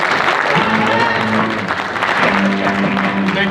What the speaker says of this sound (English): I want to introduce, with a round of applause, and all you Texans that's outside, Matt Rinaldi, my friend.